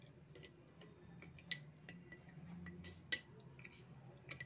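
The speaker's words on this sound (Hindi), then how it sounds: "ठंडे दूध से कस्टर्ड पाउडर को घोल लेंगे। इसे अच्छे से मिक्स करें।" A spoon stirs custard powder into cold milk, giving soft, scattered clinks against the bowl, with two sharper taps standing out in a quiet room.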